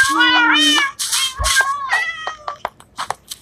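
Cats in a Minecraft animation, loud near meows, a long one and then several short ones, mixed with excited voices talking.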